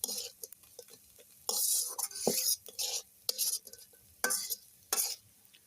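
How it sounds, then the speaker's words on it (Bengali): Malabar spinach leaves are stir-fried in a pan. Short bursts of scraping and stirring, each about half a second to a second long, repeat with a soft sizzle in between, recorded close and fairly quiet. "এই যে আমার শাক ভাজাটা হয়ে গেছে, এবার আমি নামাই নেব।"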